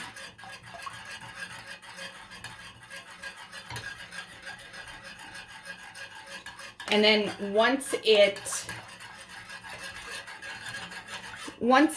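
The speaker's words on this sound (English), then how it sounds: "And it says whisk constantly, so you're constantly stirring it." Someone whisks Knorr hollandaise sauce in a pan on medium heat, making a soft, steady rasping scrape. A person talks briefly over it partway through and again at the end.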